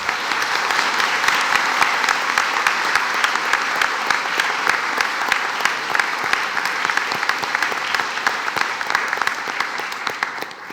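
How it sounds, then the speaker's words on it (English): A crowd at a congressional district candidates forum breaks into sustained, even applause, a dense wash of clapping that holds steady for several seconds. "So what do you say we give these hardworking folks a round of applause?"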